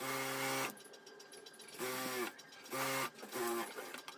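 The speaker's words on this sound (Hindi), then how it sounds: "यहाँ पर 1/2 इंच का दबाव देते हुए हमें यहाँ पर सिलाई कंप्लीट करना है" Sewing machine stitching a cup onto a bra strap with a half-inch allowance, running in several short bursts of steady mechanical whirring separated by brief pauses.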